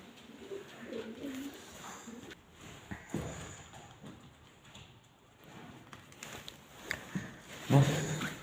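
Pigeons cooing softly inside an abandoned hotel, faint and somewhat distant, with scattered small knocks and rustles in a quiet, hollow space.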